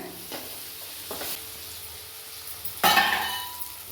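Onions sauté in a pan as a tomato goes in, a close, steady sizzle broken by brief scraping stirs, then a louder burst of frying as the tomato hits the hot pan.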